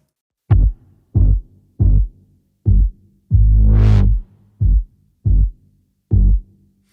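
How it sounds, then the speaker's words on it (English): Layered lo-fi synth basses from EastWest, Aqua Team Forever stacked with a Gucci bass, pulse in a series of short, deep, punchy notes with one longer held note midway, close and loud with no talking. "I'm actually layering the Aqua Team Forever with the Gucci bass"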